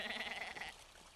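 Severed talking goat head bleating in the horror game Mundaun, a single drawn-out wavering bleat up close that cuts off partway through, leaving a quiet murmur.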